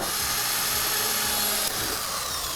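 A power drill spins at high speed in a steady, loud whine that holds for a couple of seconds, then dips slightly and carries on, close by with no talk.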